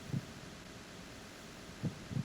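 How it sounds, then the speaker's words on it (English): In Metal Gear Solid 2, the directional microphone picks up a sedated character's slow heartbeat: muffled low thuds spaced far apart, one early and a close pair near the end, over a faint constant hum. "you can hear her heartbeat"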